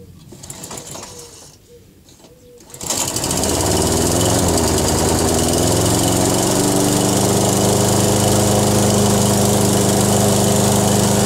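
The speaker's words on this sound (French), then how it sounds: "Le lendemain, je vais tondre avec la Toro" A Toro Recycler 22 lawn mower with a Briggs & Stratton engine starts after a few seconds of quieter clattering, then runs loud and close at a steady, buzzing drone with no voices over it.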